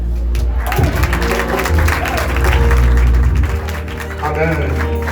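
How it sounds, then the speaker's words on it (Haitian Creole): A church congregation applauds after a testimony, steady clapping from a crowd building and fading over several seconds, with a voice talking over it. "On nous applaudit ce testimony"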